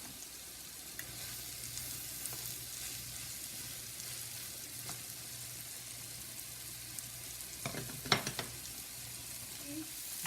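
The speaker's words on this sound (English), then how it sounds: "This has been frying for about 5 minutes" Egg mixture frying in a pan for a pancake-and-egg dish, a steady soft sizzle running throughout with a few louder crackles and utensil clicks near the end.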